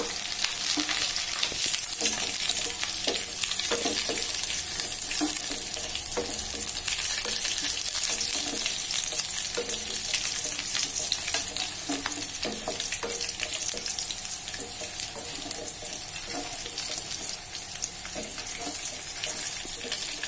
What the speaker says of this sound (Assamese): ৰঙচুৱা নোহোৱালৈকে মই ভাজি থাকিম।